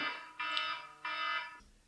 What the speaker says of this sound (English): Oh, there's that timer.